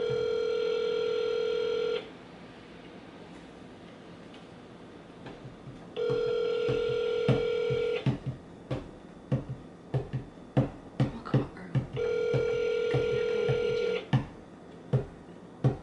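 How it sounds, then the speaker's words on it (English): A phone call in progress: a steady ringback tone sounds three times in two-second bursts, with sharp taps and clicks between them and no talking. "I'm gonna call his grandma now."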